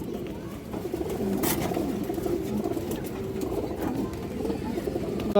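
Pigeons coo at a Bangladeshi pigeon seller's market, with low, rolling calls overlapping continuously. Faint background chatter and activity sit underneath, and a brief sharp noise breaks through once.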